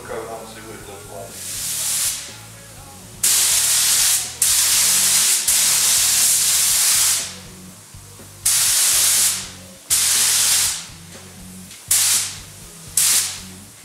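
Orange metal-flake paint is sprayed onto a guitar over a black base coat. Loud, close hissing bursts of an aerosol or spray gun come in about six passes of one to two seconds each, with quieter gaps between them.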